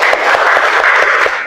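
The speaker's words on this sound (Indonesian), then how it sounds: "tepuk tangan dulu untuk semuanya." A classroom audience at an Islamic religious education teacher performance assessment claps together, a dense, steady patter of many hands sustained at close range throughout, with no voices rising above it.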